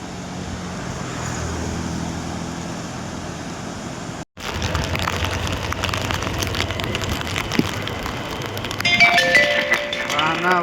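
Steady hiss of rain with a motorbike's rumbling engine and road noise while riding in the rain in Karnataka, a brief dropout midway, then louder wet roadway whoosh.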